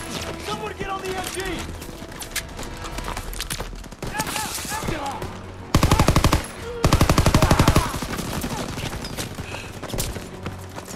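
Machine gun fire crackles in Call of Duty WW2 during a D-Day battle, with loud rapid bursts in the middle stretch amid shouting voices, music and ongoing combat noise.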